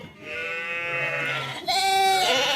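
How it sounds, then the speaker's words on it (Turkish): Merino lambs bleat close by, two long wavering cries in succession, the second louder and higher, over faint background noise. "Merinos kuzularımız"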